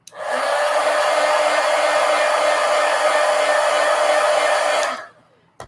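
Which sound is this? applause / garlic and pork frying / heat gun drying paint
heat gun drying paint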